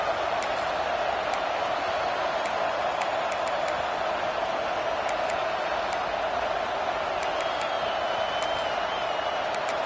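Steady stadium crowd roar in a college football video game against Nebraska, a constant wash of noise with occasional faint ticks and whoops, fairly loud and unbroken.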